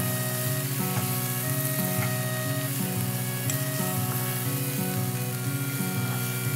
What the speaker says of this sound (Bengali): এটা কিন্তু আমরা ভালোভাবে একটু কষিয়ে নিব আগে মশলাটা